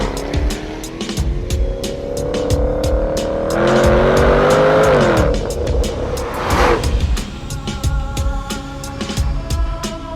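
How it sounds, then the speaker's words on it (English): A Jaguar F-Type V8 S with 488 horsepower and an electronic locking differential power-slides around a figure-8 course, its V8 roaring and rising as the tires squeal loudly and continuously through the slide, close and without talk. "huge, lurid power slides on throttle"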